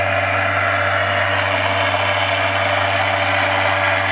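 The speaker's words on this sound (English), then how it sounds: "now motor is accelerating." A DC machine running as a motor in a lab setup, spinning up as it accelerates, gives a steady, loud hum with a strong low tone and broad whirring noise, continuous throughout with no talk.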